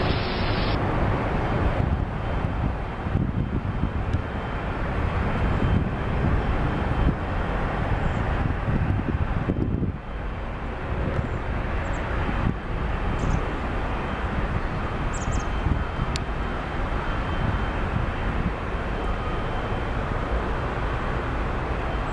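An Airbus A321neo jet airliner at Seattle airport, a broad steady roar swelling and then easing, heard from a distance with wind buffeting the microphone and no voices.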